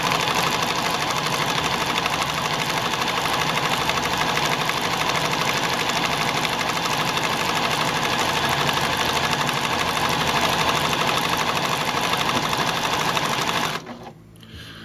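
A Pfaff 1473CD sewing machine runs a decorative stitch, a loud, close, continuous rapid mechanical whir with a fine regular ticking that holds steady for about fourteen seconds, then stops abruptly.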